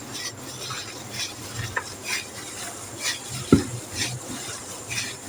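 A spoon stirs kofta curry mixture, a chicken-ball salan, in a pot, giving soft rhythmic scraping strokes about once a second over a low simmer, with one sharper clink of utensil on metal midway.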